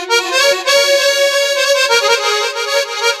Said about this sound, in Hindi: ये देखिए अब हमारा साउंड इको इफेक्ट में आ रहा है